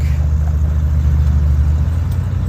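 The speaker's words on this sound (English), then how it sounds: "Dad's driving the truck." A farm truck with chains on its tyres drives steadily, a loud continuous low engine rumble throughout with no talk.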